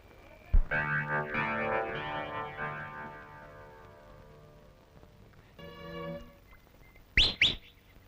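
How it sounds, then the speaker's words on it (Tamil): A man whistling in a Tamil comedy film scene, a long sliding melodic whistle followed by a shorter tonal burst and two sharp high whistle blasts near the end, heard alone without talk. "காலங்காத்தால விசில் அடிச்சுண்டு"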